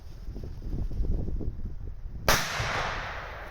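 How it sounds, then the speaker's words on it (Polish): Outdoors on New Year's Eve, a strong firecracker explodes in a single sharp, close crack after a stretch of low rumbling background, its noisy echo trailing off afterward. "dawno nie odpalaliśmy tak mocnych petard"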